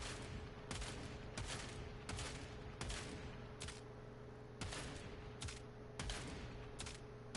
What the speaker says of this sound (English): Now, I'm just shooting regular bullets.